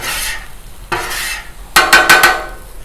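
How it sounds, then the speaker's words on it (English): A metal spatula scrapes across a Blackstone griddle in short, loud strokes, a few rasping passes followed by a quick burst of rapid scrapes, heard up close. "Let's just give this a little scrape. Get some of that stuff off."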